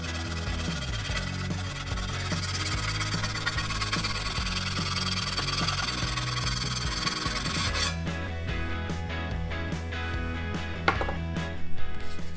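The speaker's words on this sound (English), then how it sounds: "I'll do some more filing" A steel file rasps over a brazed dent on a bicycle frame in repeated close scraping strokes, steady for several seconds, then lighter irregular scrapes and a few clinks toward the end.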